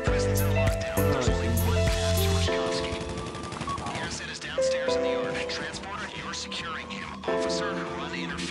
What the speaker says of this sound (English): Oh, I'm getting shot, I'm running back.